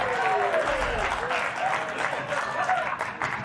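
Studio audience applause on a late-night political comedy show, a dense, steady wash of clapping with cheers that fills the whole stretch.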